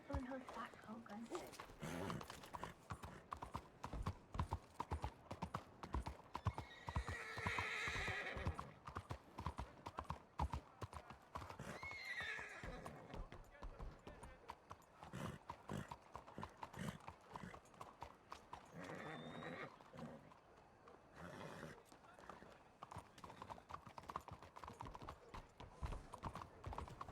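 Horse hooves clip-clop steadily in a video game as riders move on horseback, with an occasional whinny, continuing under frequent overlapping talk throughout.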